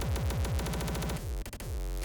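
Rapid electronic kick drums before any effects, a fast, dense run of booming low thumps inside a busy, noisy mix, briefly stuttering near the end.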